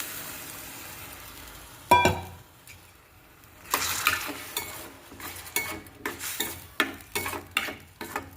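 Water poured into a sizzling pan of gravy with green pigeon peas and fenugreek, followed by repeated spoon scrapes and stirring strokes against the pot, close and clear over a low sizzle.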